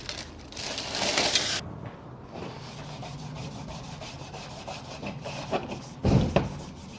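Scotch-Brite pad scuffing the edges of an MGB car body panel, a soft abrasive rubbing in short bursts, louder at the start and again near the end, over a low steady background.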